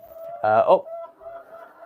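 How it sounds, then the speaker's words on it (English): A short burst of hen clucking and squawking, fairly close, with quieter background murmuring around it. "one of the chickens is laying an egg"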